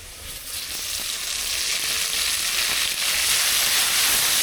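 Garlic paste sizzles in hot oil, a dense hissing fry that grows slightly louder, with faint stirring scrapes beneath.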